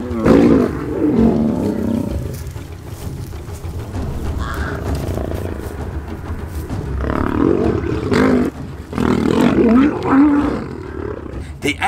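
Lions roaring in the wild after a short dominance fight between males, deep repeated roars rising in bursts through the clip, loud and close.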